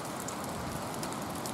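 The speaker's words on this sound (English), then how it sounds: "Although it's not torrential rain, there's a lot of it." Steady, heavy but not torrential rain falls in woodland onto sodden ground, a soft, even hiss of countless drops that continues unbroken with no voices.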